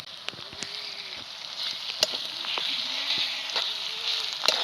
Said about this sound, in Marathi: कांदा चांगला तळत आला की मिरची वाटलेली टाकून घेते त्यात